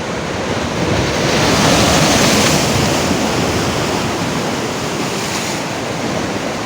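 Rough sea waves crash at the Kalutara river mouth in Sri Lanka, a continuous loud roar of surf mixed with gusting wind on the microphone.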